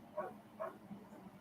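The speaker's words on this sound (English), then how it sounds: "Sorry for him barking." A dog outside barks faintly twice in quick succession, distant and muffled, with a softer third yip, over a low indoor hum.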